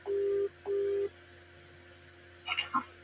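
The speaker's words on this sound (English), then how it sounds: "It's ringing." Telephone ringback tone on an outgoing call, two steady electronic rings with a pause between, followed by faint clicks and brief beeps as the line connects.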